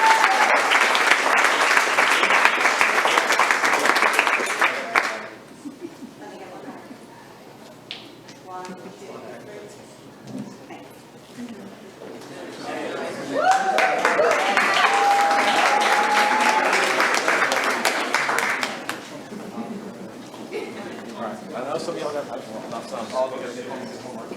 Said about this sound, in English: One more time, round of applause for our awesome band program.